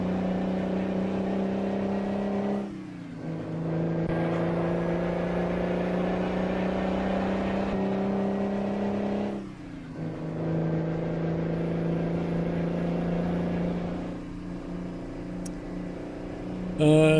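Truck engine in a trucking video game mod, a 335-horsepower two-stroke Detroit diesel, droning steadily with pitch rising through each gear and dipping briefly at the gear changes.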